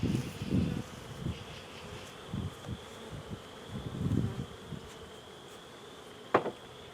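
Honey bees buzz steadily at an open hive during a spring inspection in 2021, with a constant close drone and a few low thumps and knocks from handling the hive boxes.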